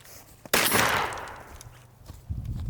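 A single loud, close shotgun blast from a SPAS 12 at a clay shoot, its report decaying over about a second and a half, followed by faint handling noise.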